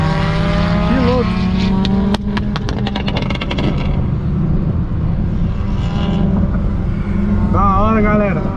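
An Audi TT and a Jetta 2.5 racing at a Piracicaba racetrack, loud engines roaring and revving with tonal whine, one car passing close then fading, with a voice heard briefly.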